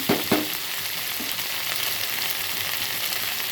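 Okra pieces fry uncovered in a pan with a steady, close hiss and crackle, opening with a couple of sharp stirring knocks, then sizzling evenly on its own.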